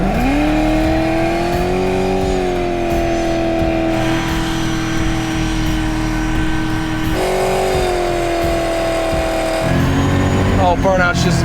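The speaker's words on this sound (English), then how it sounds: "Let's do a burnout for the kids." A 2005 Pontiac GTO held on its line lock for a burnout in second gear, engine roaring at a loud sustained high rev for several seconds, dipping and climbing again, with tire noise and a voice cheering over it near the end.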